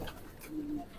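A pigeon coos in a pigeon keeper's collection, a soft low warble rising mid-clip over a noisy background, brief and moderately near.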